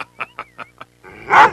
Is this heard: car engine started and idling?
no